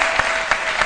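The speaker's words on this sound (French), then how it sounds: "Applaudissez pour la vie." A studio audience at a live Ivorian midday television show claps steadily, a dense wash of applause with a few sharper bursts at regular intervals.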